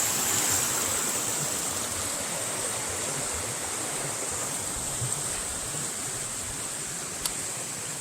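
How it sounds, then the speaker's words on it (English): Waterfall and stream beside a hiking trail, a steady, full rushing roar of water heard alone. "I was going to show them the waterfall"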